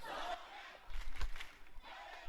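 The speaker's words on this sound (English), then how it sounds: "They're all chanting, whose eyes are those?" A crowd chants together in the video game Chaos;Head Noah. The massed voices rise and fall in rhythmic surges like a sports chant, with a loud swell in the middle.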